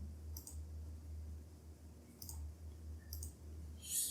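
Faint computer mouse clicks, three or four light ticks spaced apart over a steady low hum, with a slightly louder click at the end and no talking.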